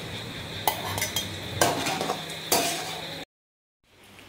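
Fried eggs scraped and scooped out of a hot pan into a bowl for egg fried rice, with several sharp metallic clinks of a utensil against the pan over a faint sizzle, ending in a brief silence.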